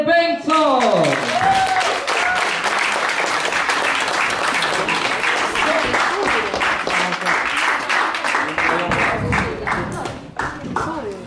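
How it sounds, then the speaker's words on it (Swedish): Large crowd applauding and clapping steadily for the third-place finisher at an outdoor kids' scooter competition, a loud sustained ovation after a brief announcer's voice at the start, tapering off near the end. "Så jättestor applåd för Walter"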